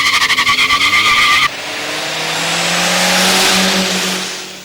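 BMW and Volvo cars racing head to head in a heat: a pulsing, rapidly cycling engine drone cuts into a rising, sustained roar of acceleration with a tire-squeal whine, loud and close, without talk.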